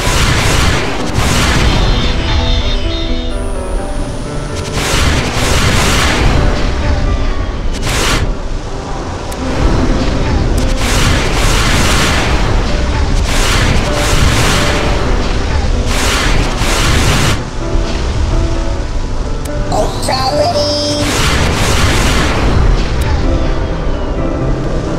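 Mortar artillery fire and explosions in the video game Battlecruisers, loud repeated booms and blasts rolling over a dense battle din, with a synthetic voice calling out now and then.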